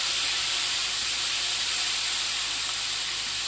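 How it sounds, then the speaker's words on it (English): Chicken for tinga tacos sears in a hot pan, giving a loud, continuous, close sizzle and hiss throughout. "So we want to sear that nice and quick."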